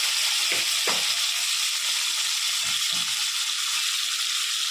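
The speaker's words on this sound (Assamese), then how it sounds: "পিঁয়াজটো মই এতিয়া অলপ সময় ভাজি লওঁ।" Onions frying in a pan with oil for a fish curry, a close continuous sizzle with a few soft clinks and scrapes of stirring, no talking.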